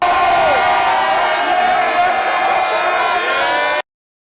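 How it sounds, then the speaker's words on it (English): Packed arena of hockey fans at an Endicott versus Hobart Frozen Four game roaring and whooping at full volume, a dense wall of cheering that holds steady, then cuts off abruptly near the end. "the fans are going nuts and they're going to be going the whole game"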